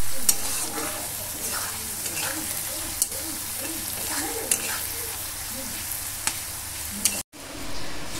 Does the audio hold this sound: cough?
no